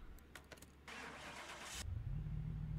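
A tuned high-performance Toyota Supra engine in Car Mechanic Simulator 2021 cranks briefly, catches, and settles into a steady, deep idle rumble, close and continuous with no talking.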